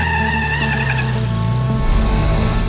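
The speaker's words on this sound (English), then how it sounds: "Here in the background, our truck's coming." Volvo Iron Knight, a 2,400 hp record-setting truck, approaching: a loud, steady engine roar with tire noise builds continuously, with a shift in pitch near the end as it draws closer.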